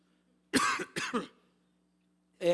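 A man clears his throat in a couple of rough, close bursts in an otherwise quiet room, with one more throat-clearing sound starting at the end.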